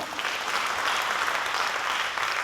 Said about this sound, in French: Applaudissez bien fort pour vous.